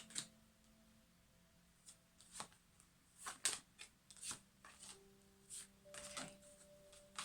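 A deck of tarot cards is shuffled close by, with soft irregular riffles and flicks in short bursts and small pauses between them, and no talk.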